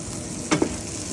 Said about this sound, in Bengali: আমার সসেজগুলো একদম ভাজা ভাজা হয়ে গিয়েছে